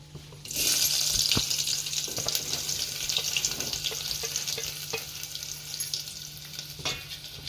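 Chopped onion dropped into hot oil for tempering a lentil sambar sizzles loudly from about half a second in, then keeps up a steady, close frying hiss with occasional crackles and stirring clinks.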